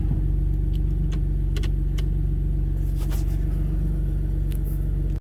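Cabin of an Audi C5 A6 on the move, a steady low engine and road rumble throughout, with a few faint light rattles and ticks on top.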